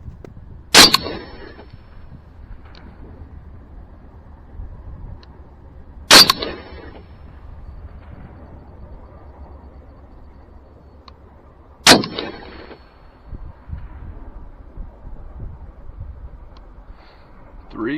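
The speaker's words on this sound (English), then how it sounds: "we are at the range and have just finished up shooting with the Whiskey 4" Three loud rifle shots fired through a Sig Sauer Whiskey 4 4-16x44 scope at a range, evenly spaced about five to six seconds apart, each a sharp crack followed by a short ringing tail, with quiet background noise between shots.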